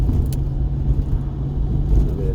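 A Jaguar E-Type V12 being run in, held in second gear around 2,500 rpm, giving a steady low engine rumble from inside the car.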